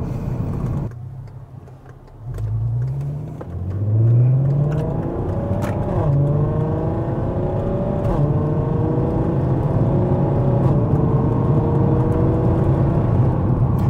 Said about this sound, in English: I quite like just the resonator delete. A lot of people say it sounds raspy